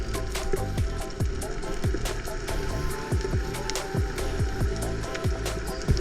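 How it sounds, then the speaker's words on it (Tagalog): Continuous muffled underwater wash with scattered sharp ticks and low swooping blips, like raindrops striking the surface heard from below, steady throughout. "nasa ilalim na tayo ng dagat pero rinig pa rin yung patak ng ulan"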